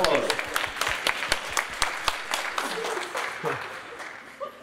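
A team at a university ideas competition gets applause: dense crowd clapping, strongest at first and slowly thinning out, with voices talking over it.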